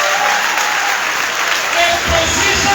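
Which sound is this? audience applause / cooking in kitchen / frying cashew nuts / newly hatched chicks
audience applause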